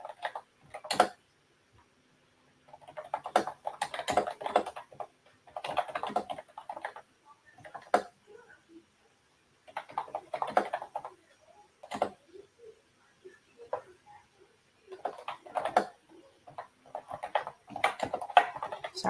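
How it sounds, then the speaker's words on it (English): Computer keyboard typing in irregular bursts of quick clicks separated by short pauses, fairly close and clear, with no one talking. "Sorry, just typing away here."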